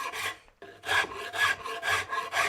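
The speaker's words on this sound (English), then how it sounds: "You can start to see how quickly you can remove metal, even with this rasp" A fairly fine rasp files the metal of a hand-forged axe in about six even, scraping strokes, close and distinct, with a brief pause after the first stroke.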